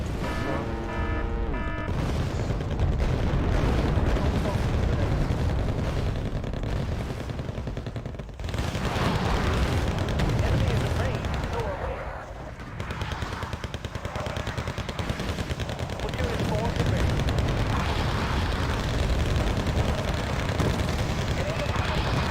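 Guns firing and explosions fill a battle in Wargame Red Dragon. Rapid gunfire and heavy booms continue densely for the whole stretch, with voices faint underneath.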